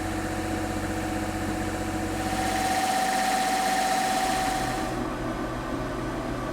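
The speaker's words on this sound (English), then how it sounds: "that noise you hear is the generator running" A portable generator drones steadily nearby, a loud continuous engine hum with vibration and a faint whine that rises briefly midway.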